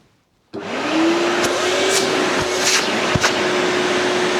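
A Panther HEPA gutter vacuum for dry use switches on abruptly after half a second of silence, spinning up to a steady loud whooshing roar with a rising motor whine, plus a few faint knocks.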